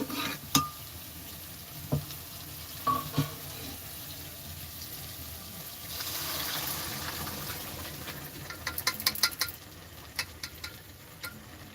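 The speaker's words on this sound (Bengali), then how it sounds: "তরকার ডালটা যে সেদ্ধ করা আছে ওটাই এবার দিয়ে দেবো" Boiled dal for tadka dal poured into a hot pan in a home kitchen, giving a soft wet splash and sizzle with scattered clinks and stirring scrapes, mostly toward the end, with no talking.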